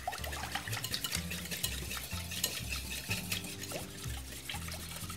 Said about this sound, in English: And we can whisk all this together.